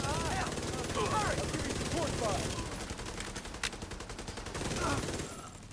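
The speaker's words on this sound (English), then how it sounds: "I heard gunshots" Rapid bursts of video game gunfire crackle under a talking voice, with one sharper shot standing out before the firing fades.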